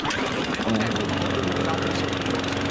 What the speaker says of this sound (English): that lawnmower sound. I love that fucking lawnmower sound